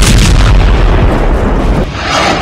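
Heavy bombing in the Gaza Strip produces a loud, continuous roar of blasts and deep rumbling that fills the whole span without pause, with no speech.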